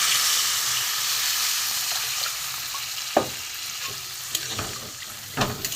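Water is added to spice masala frying in a pan, giving a loud, steady hiss and sizzle that slowly eases, with a few sharp spatters and stirring scrapes near the end.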